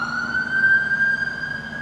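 An ambulance siren wails steadily in the distance, its pitch slowly rising over a low rumble of road traffic.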